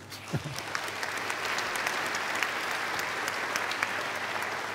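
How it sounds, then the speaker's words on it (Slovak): An audience at an architecture awards gala breaks into steady applause, a dense even patter of many hands clapping that fills the room for several seconds. "myslím, že si to zaslúžia možno taký malý potlesk"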